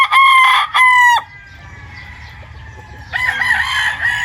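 A rooster at a gamefowl farm gives two loud, close crowing bursts in quick succession. A quieter stretch follows, then another strained crow near the end.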